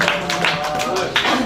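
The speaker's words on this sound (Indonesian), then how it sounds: "Tepuk tangan yang meriah buat Satrio." Clapping from a live audience at an outdoor radio broadcast event at Tugu Pahlawan in Surabaya, fairly close and loud, with scattered claps running under a man's speech.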